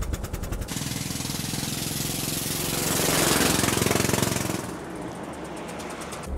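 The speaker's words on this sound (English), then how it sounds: "Are you sure that's an exhaust leak?" A used Range Rover engine with an exhaust leak runs close by, a loud rapid ticking and chattering that swells in the middle and then settles back toward idle.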